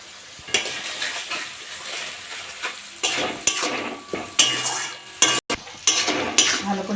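Egg and carrots frying in a pan for chowmein, with a spatula stirring and scraping against metal in bursts over a continuous sizzle, close up with a few sharp clanks and no talking.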